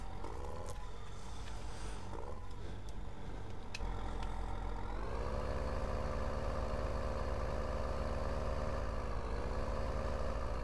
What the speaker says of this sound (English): we'll take this tractor down to the sheep field first.